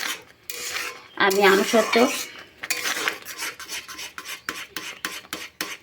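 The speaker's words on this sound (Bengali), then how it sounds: "আমি এটা অনবরত নাড়ব আর এটা অনবরত নেড়ে নেড়ে" Raw mango pulp for aamsotto is stirred continuously in a pan, with a spoon scraping and rasping against the metal in quick repeated strokes. A brief voice is heard near the start.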